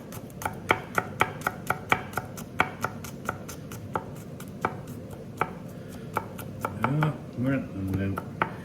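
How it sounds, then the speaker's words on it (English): A knife chops ingredients in quick, sharp, evenly spaced strikes, rapid at first and then slower and sparser, close up, with a faint voice near the end. "give it a really good little chop."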